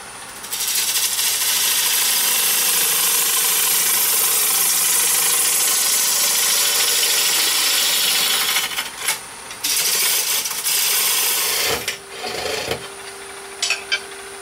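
A wood lathe turning a bowl blank held in a chuck, spinning at just over 900 RPM, gives a steady loud whirring rasp that later breaks into short scraping bursts and pauses.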